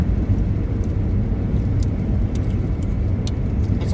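Inside a car on a long road trip, a constant loud road roar and engine drone fills the cabin, with a few faint clicks and no voices.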